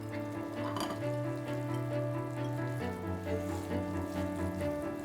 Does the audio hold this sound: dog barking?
no